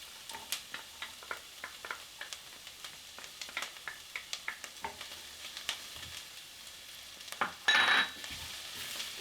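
Onions and garlic sizzle in a pan for a spaghetti meat sauce, with a run of sharp scraping stirs across the first half and a louder, hissing burst of frying near the end. No one speaks.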